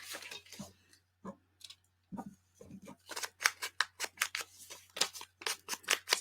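Scissors trim paper for a junk journal in a rapid run of crisp, close snips, with a few softer cuts first and a dense burst of steady snipping after.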